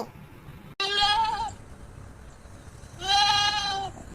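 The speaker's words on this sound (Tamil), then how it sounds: "என்ன என்ன ராணியக்கா ஆட்டுக்கிட்ட எல்லாம் பேச்சுவார்த்தை நடத்திக்கிட்டு இருக்க" A goat bleats twice nearby, two loud wavering calls about two seconds apart, each lasting roughly half to one second, over a quiet rural background.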